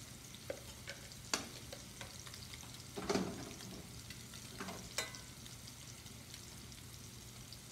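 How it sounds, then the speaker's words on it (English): Broccolini and seared scallops cooking in a hot pan give a low, steady sizzle and fry, with a few louder clatters and stirring bursts scattered through. No one speaks. "We should be good to add our broccolini and just do our final little finishing cook on this."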